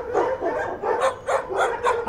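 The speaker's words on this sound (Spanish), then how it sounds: "¡Hagan callar a sus perros!" Several dogs bark in repeated bursts, close and fairly loud, with short yips between the barks, in a suspense drama scene. No one speaks.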